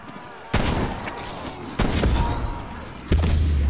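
Explosions in the Call of Duty Cold War zombies mode: three loud, sharp booms arrive about a second apart, each a sudden blast followed by a rumbling tail.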